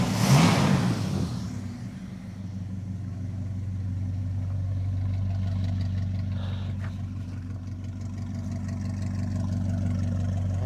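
A Dodge Charger crew cab build's engine runs steadily at idle after a brief louder rev at the start, a low continuous rumble close by with no talking.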